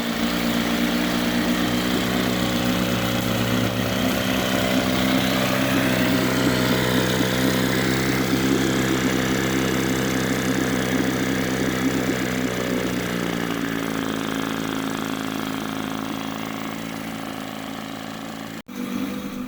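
A freshly rebuilt outboard motor on a Catalina 22 sailboat runs steadily at idle, a close, loud droning buzz that holds for most of the time, eases slightly, then cuts off near the end.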